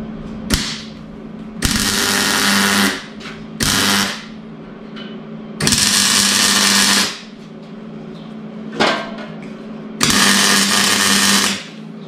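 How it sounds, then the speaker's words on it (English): Steel bullbar hoops being tack welded give about six short, loud bursts of crackling hiss, each lasting one to two seconds and separated by brief gaps. "So I'm going to tack these bits on and then fully weld it."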